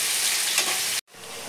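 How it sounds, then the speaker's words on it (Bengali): Chopped onion and tomato fry loudly in a hot pan, a dense steady sizzle that cuts off abruptly near the end, then resumes more quietly. "পেঁয়াজ টমেটো কুচিটা ছিল একসঙ্গেই দিয়ে দিচ্ছি, ভালো করে ভাজা করে নেবো"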